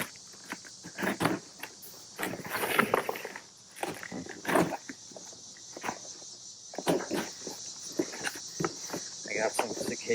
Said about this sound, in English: I got some cicadas out there in the tree, so I hope that isn't making too much noise